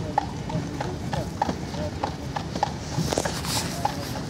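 Horse pulling a carriage through Central Park on a cold day, its hooves striking pavement in a steady, even clip-clop rhythm at moderate distance, with crowd chatter and people talking underneath.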